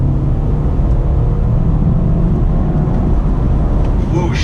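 A 2019 BMW 330i, rear-wheel drive, accelerates with a loud, steady low engine rumble heard from inside the cabin, droning continuously without a clear break for a shift.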